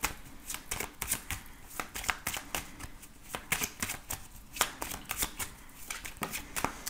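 Cards from a mirror oracle deck being shuffled: a steady run of crisp, rapid riffling flutters and slaps, close and fairly loud, repeating throughout with no talking.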